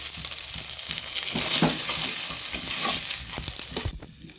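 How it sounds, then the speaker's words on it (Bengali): Tomatoes being stirred in a hot pan for chana masala, a close, steady sizzle broken by scraping strokes of a spoon against the pan, with no talking. "টমেটো দিয়ে আমরা টমেটোটাকে একটু ভালো করে নেড়ে নেব"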